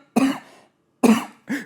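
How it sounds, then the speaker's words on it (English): Three short, harsh coughs from one person, close and loud, the first two separated by a pause and the last one quicker and slightly higher, with no talking. "desperate to cough"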